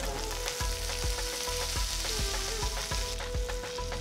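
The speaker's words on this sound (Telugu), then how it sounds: "1 టీ స్పూన్ ఆవాలు వేసి వేయించాలి." Mustard seeds, chopped ginger, green chillies and curry leaves fry in hot oil, giving a steady loud sizzle with repeated popping crackles throughout and no talking.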